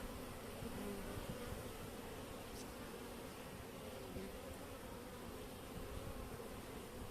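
Honey bees buzz steadily around an opened hive of a weak colony being wintered, a dense, constant hum with no voices.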